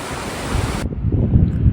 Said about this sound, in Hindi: इतना प्यारा साउंड है, और काफ़ी बड़ी नदी है। फ्लो तो भाई पूछो ही मत।